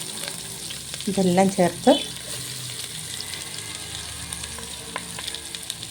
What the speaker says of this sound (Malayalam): അതിൻ്റെ കൂടെ നമുക്ക് ഒരു 1/2 ടീസ്പൂൺ ഉപ്പും കൂടെ ചേർത്ത് ഇളക്കി കൊടുത്ത് നല്ലോണം മൂപ്പിച്ചെടുക്കാം